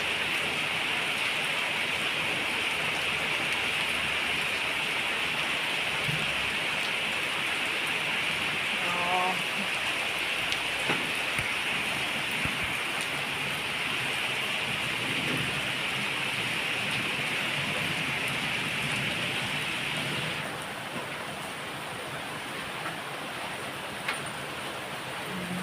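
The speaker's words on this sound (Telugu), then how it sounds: "అసలు ఎంత పెద్దగా వస్తుందో వాన" Heavy rain falls in Hyderabad as a steady, even hiss over the whole stretch, with faint scattered knocks and distant sounds beneath the downpour.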